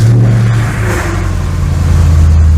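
Audi S6 C5 engine idling steadily just after a cold start, a loud, close, continuous low rumble with a slight rise in revs partway through, no talk.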